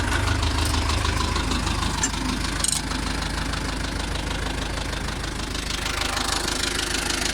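Steyr 650 Plus tractor engine idling at steady revs, a loud continuous low diesel rumble with a regular knocking pulse, close by with no talk.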